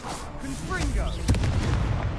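A Confringo blasting spell fired in the Hogwarts Legacy game, with whooshing magic swirls and a booming explosion about midway that rumbles on, under a voiced spell cry.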